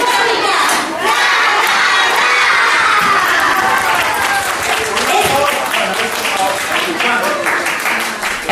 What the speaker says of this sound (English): At the end, they even gave us a special cheer.